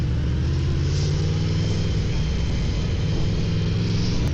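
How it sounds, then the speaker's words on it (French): Constant deep, even exhaust drone from a four-cylinder motorcycle that sounds like a twin, loud and close, recorded while riding with steady wind rush and no talking. "Cet échappement est incroyable. Il fait vraiment un bruit de bicylindre, alors qu'on est sur du 4."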